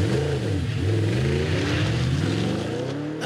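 An Audi R8's V8 engine revs hard and loud, its pitch climbing steadily toward the redline as the car accelerates, a dense continuous roar with rising harmonics throughout.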